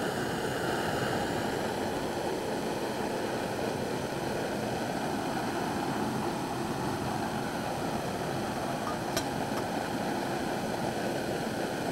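A Taykit pocket stove burns with a constant, hissing roar like a miniature jet engine, holding an even level throughout with no talking.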